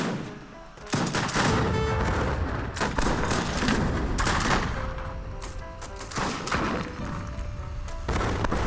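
Steel guns and mortars firing in the Age of Empires 3 strategy game, a dense continuous barrage of overlapping gunshots and booming thuds throughout, loud and chaotic with no talk.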